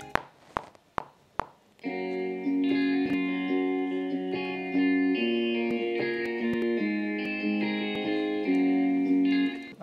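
A guitar VST plays a sustained, chord-like melody drenched in reverb and panned to one side in a sad trap beat, starting after a few sharp plucked hits and ringing steadily throughout.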